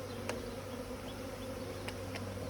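A dense swarm of honey bees drones steadily and close while two packages are shaken into a hive, with a few individual bees zipping past louder for a moment.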